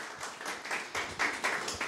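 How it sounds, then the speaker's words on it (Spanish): A church congregation claps in honor of the Virgin Mary during a Catholic sermon, a fairly faint run of rhythmic, evenly pulsing hand claps from a group. "Este fuerte aplauso a nuestra Madre Santa."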